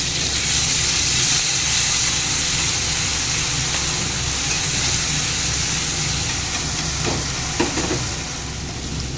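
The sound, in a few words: tomato and green chilli sizzling with fried onion in pan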